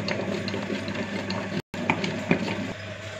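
Grinder churning urad dal batter with black pepper and salt for medu vada, a steady mechanical whirring and rattling hum that runs throughout with a brief dropout near the middle.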